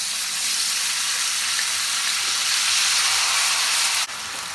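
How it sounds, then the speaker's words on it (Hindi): Garlic frying in hot oil in a frying pan makes a continuous loud hiss and sizzle that stays even, then drops off sharply near the end. "ऑयल गर्म हो गया है, अब हम इसमें फ्राइज़ डालेंगे"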